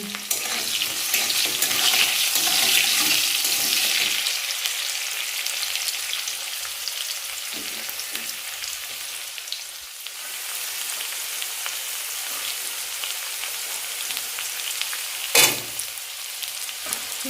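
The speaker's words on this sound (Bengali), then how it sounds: "বিট সব কিছু একসাথে দিয়ে ভালো করে ভেজে নিচ্ছি হাঁড়িটা" Carrots, beetroot and other vegetables sizzle and fry in a pot, a loud hiss at first that settles into a steadier crackle, with a sharp clink of utensil near the end.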